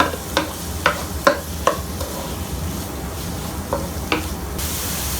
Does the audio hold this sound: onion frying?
yes